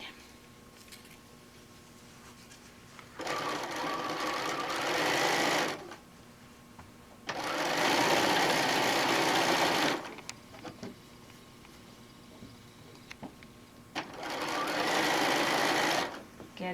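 A sewing machine stitches a half-inch seam on fabric for a machine cover, running in three bursts of steady whirring and needle clatter separated by quieter pauses.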